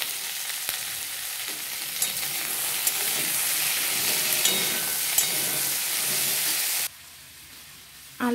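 Potato and drumstick pieces frying in a pan, a dense continuous sizzle with occasional stirring clicks, close and steady for several seconds before it suddenly drops to near silence.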